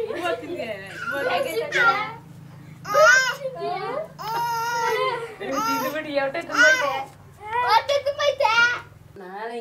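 A 7-month-old baby babbles at home in a series of short, close, lively vocal bursts with brief pauses between them. A steady low hum runs underneath.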